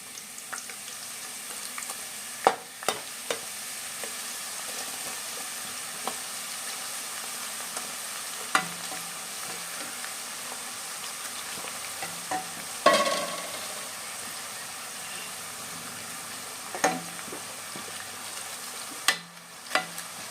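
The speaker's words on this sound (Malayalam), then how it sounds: "അത് നമുക്ക് ഈ എണ്ണയിലിട്ടിട്ട് ഒന്ന് വറുത്തെടുക്കാം" Quiet, steady sizzling of samosas frying in oil, broken by a few sharp clinks and scrapes of stirring.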